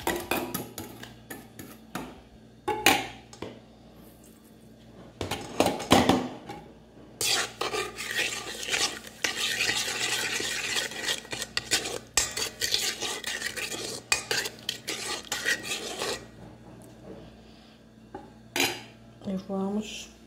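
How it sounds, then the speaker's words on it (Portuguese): Butter, sugar and flour are mixed in a bowl for esfiha dough, with irregular clinks, knocks and rubbing scrapes of a utensil coming in bursts and separated by quiet pauses. "Vamos misturar aqui o açúcar"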